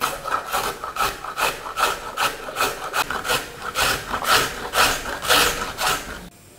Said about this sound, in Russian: Также берем одну морковку и натираем через мелкую терку.